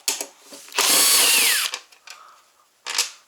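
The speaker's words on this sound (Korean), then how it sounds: "볼트 잘 풀립니다 볼트 잘 풀린 거 좋습니다" A power tool whirs in a loud sustained burst, loosening bolts on an imported dual-motor electric kick scooter, followed by shorter ratcheting bursts and a final brief spin-up.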